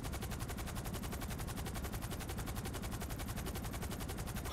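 Rapid automatic gunfire rattles without a break, a dense stream of shots striking a car in Grand Theft Auto Online, loud and close throughout with no talking.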